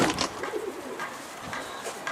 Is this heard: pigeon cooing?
yes